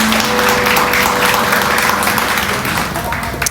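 Congregation applauding in a Spanish-language church service, a steady wash of clapping from many hands filling the room, loud and continuous, with some voices mixed in and a faint tonal hum underneath.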